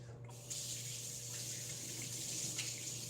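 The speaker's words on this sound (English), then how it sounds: "let me wash my hands" Tap water runs steadily into a sink as hands are washed, a continuous close hiss with a faint hum underneath.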